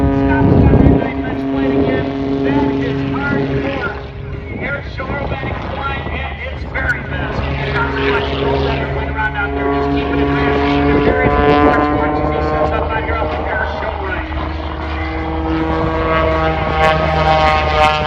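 An aerobatic propeller airplane with a 24-foot wingspan flies low past the crowd at a night airshow, its engine droning and shifting in pitch as it passes, heard under a public-address announcer.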